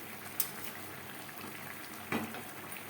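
Bombay duck fish simmers with tomato in a pan, a faint steady low bubbling hiss with a couple of brief soft clinks.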